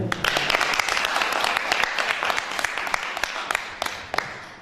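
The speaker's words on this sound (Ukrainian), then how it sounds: "А зараз би є аплодисменти." Audience applause at a performance in Sumy: dense, steady clapping from many hands that fills the whole stretch at a fairly loud, even level, with no talking over it.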